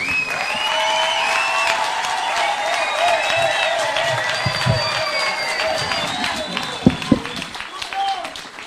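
A large audience applauds and cheers to welcome President William Ruto, a dense, sustained wash of clapping with crowd noise, under an amplified voice and ringing tonal sounds, before tapering off near the end.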